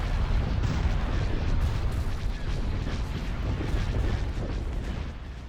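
Weapons fire pounds a shield generator during a Star Wars space battle game, a loud, continuous rumble of booming blasts and explosions that rolls on without a break and eases slightly near the end.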